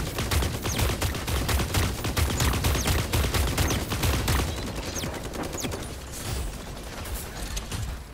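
Rapid, sustained gunfire from the mecha battle royale game Super Mecha Champion, dense bursts of shots crackling over a low rumble, loud and close for most of the stretch before easing slightly near the end.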